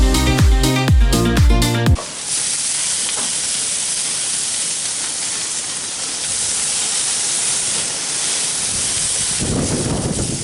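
Burgers sizzle on a propane grill just after being flipped: a loud, dense, steady hiss of frying that follows a couple of seconds of music, with a brief flare of stronger crackle near the end.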